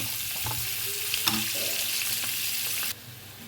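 Potatoes frying in oil for Kashmiri aloo dum, a soft continuous sizzle with a few clinks and stirring knocks, cutting to near quiet just before the end.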